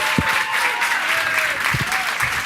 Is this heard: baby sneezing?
no